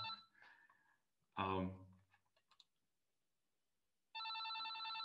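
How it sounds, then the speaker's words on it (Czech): A telephone rings in a room during an employers' workshop on remote work: a loud electronic ring bursts in near the end after someone has been speaking. "omlouvám se za ten zvonící telefon, já ho nechám chviličku zvonit"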